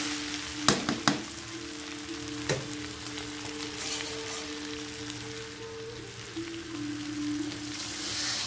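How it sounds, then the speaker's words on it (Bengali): Paneer frying in a pan, with water added partway through. A steady close sizzle runs throughout, broken by a few sharp clinks of a utensil early on and a louder burst of sizzling near the end. No one speaks. "একটু ভেজে নেওয়ার পরে এখন আমি এখানে দিব একটু জল।"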